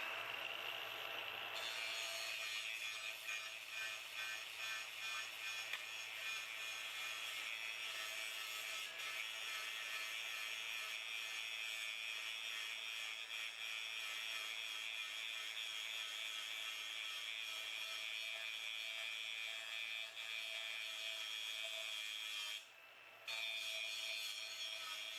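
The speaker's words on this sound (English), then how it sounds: "we're gonna use that to grind this mill scale off" A thin-disc angle grinder grinds mill scale off steel in one long, steady, close, high-pitched abrasive whine, breaking off briefly near the end before resuming.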